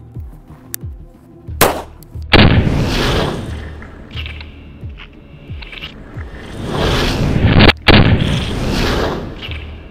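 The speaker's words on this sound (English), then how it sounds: "Okay, we've shot both 9mm and 45, full metal jacket." Loud outdoor gunshots from 45 ACP Speer Lawman 230 grain full metal jacket rounds crack out one at a time, each sharp report followed by a long booming echo that rolls away across open ground.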